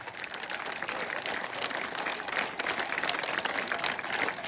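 An audience at an Armenian political speech breaks into sustained applause, a dense, even patter of many hands clapping throughout at moderate loudness, with no voices standing out.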